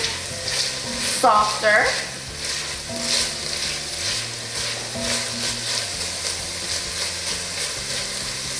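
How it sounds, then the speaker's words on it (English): Onions sautéing in a pot for a poblano chicken squash chili, a steady close sizzle with scraping stir sounds and a brief clink, a soft spoken word passing over it. "you want to saute them for about 3 to 4 minutes, just until the onion just starts getting a little bit more like clear"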